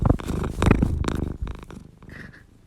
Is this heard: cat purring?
yes